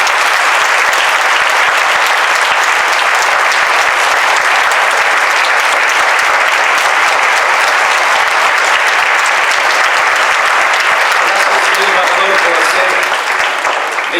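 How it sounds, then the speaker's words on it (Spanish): A large audience at a Holocaust remembrance event in Mexico applauds the Israeli ambassador, sustained dense clapping that fills the room steadily for the whole stretch. "señor Zvi Tal, a quien pedimos un gran aplauso."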